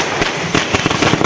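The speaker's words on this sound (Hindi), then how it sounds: "इस दौरान पटाखे भी फोड़े गए" Firecrackers burst at an outdoor Congress party celebration in Mandi marking a municipal election win, a loud, dense crackle of rapid overlapping pops at close range.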